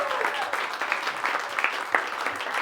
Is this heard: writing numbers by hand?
no